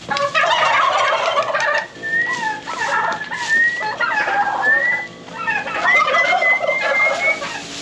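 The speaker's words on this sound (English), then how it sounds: "the turkeys are definitely excited" Several turkeys gobble loudly and repeatedly nearby, their warbling calls overlapping in bursts with short pauses between.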